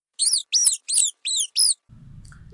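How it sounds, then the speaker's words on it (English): A robin gives five bright, evenly spaced chirps close by, each a short, clear tweet separated by brief gaps, followed by faint low background noise. "birds chirp, they tweet, and they sing"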